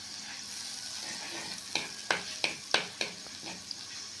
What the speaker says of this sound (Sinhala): මෙන්න මේ වගේ බුබුලු දානකම් රත් වුණාට පසු මුලින්ම එකතු කරගන්න තලාගත්ත සුදු ලුණු ස්වල්පේ